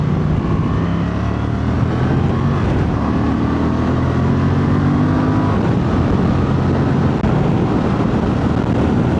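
A 2025 Honda Transalp 750 motorcycle climbs a hill with a loud, steady engine drone mixed with wind and road roar. The sound holds constant with no talk.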